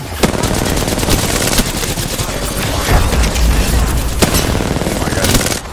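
Dense video game gunfire, rapid bursts and single shots crackling loud and close over a chaotic firefight, with players shouting in between.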